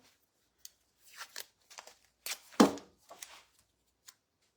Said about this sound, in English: let me get some tape, and I'm going to tape this one down